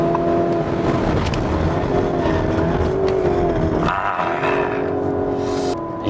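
A Lamborghini Urus SUV runs at speed on the road during a brake test, its engine roaring loudly and steadily before the note shifts and drops abruptly near the end.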